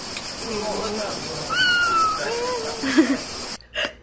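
A cat on a street in Kotor, Montenegro gives a few short meows close by, mixed in with people chatting and outdoor background noise.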